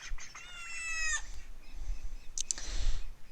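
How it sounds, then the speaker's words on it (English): Young chickens and chicks on a homestead, with a run of bright, high peeping calls near the start followed by scattered softer chirps and a low rustle of movement close by. "Always good to see little chicks."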